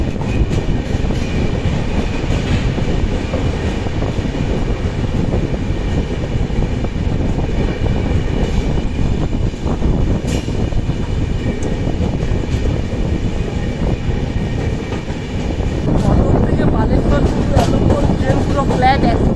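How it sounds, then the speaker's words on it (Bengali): Bengaluru–Kamakhya AC superfast express rolling steadily at speed through Bhadrak station, heard from inside an AC three-tier coach: a continuous loud rumble of wheels and carriage, swelling louder near the end. "আমাদের ট্রেন এখন পার করছে ভদ্রক স্টেশন"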